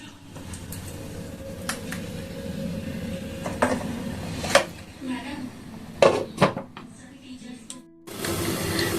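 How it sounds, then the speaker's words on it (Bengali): A metal lid settles onto a cooking pan of pointed gourd curry over a low flame, giving a few sharp clanks and rattles over a steady low kitchen hum. "এবার আমি 5 মিনিটের জন্য ঢেকে দেব"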